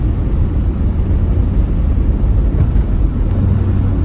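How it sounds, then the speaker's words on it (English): A Jaguar E-Type engine runs steadily at a low, even rumble, close and loud, with no voices. "I love the sound of that engine."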